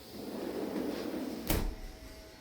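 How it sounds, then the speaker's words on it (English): A sliding glass door leading out to a three-season room opens in a home, with one quick close swish-and-thud rising above a steady, quiet indoor hiss. "this sliding glass door leads out to a 3-season room"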